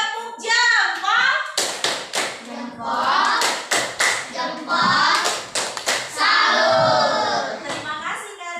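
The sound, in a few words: class clapping together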